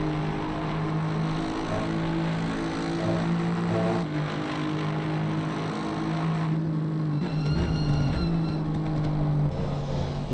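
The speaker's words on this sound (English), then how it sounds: "Some gratuitous Aston Martin engine sounds." Aston Martin race car engine in a racing video game at the Nürburgring, a sustained loud drone that holds steady and then shifts pitch through gear changes, with no talking.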